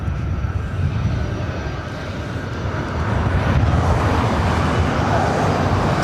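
A Delta Boeing 757, an older ex-TWA airframe approaching to land at LAX, rumbles with a steady low jet drone that grows slightly louder toward the end, with faint road traffic beneath and no speech.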